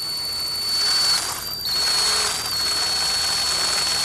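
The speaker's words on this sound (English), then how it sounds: "Now as you drill that hole up inside there, as you drill" A power drill spins slowly while boring out a broken turn signal lever piece on a Jeep Wrangler YJ, a steady high whine with a brief dip midway.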